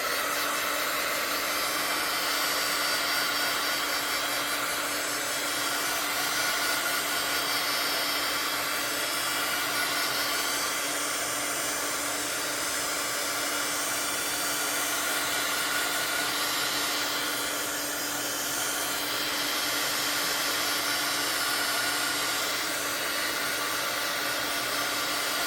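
A hair dryer blows steadily to dry ink on a journal page, a loud continuous whooshing hum with a faint whine that holds unbroken throughout, with no talking.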